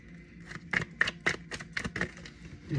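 Tarot cards are shuffled by hand in a quick series of about eight crisp, papery riffling bursts, close and fairly quiet with no talking.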